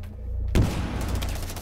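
Gunfire in the video game Rainbow Six Siege on PC: a sudden loud burst of shots after a quiet moment, then a rapid rattling volley that stays up close.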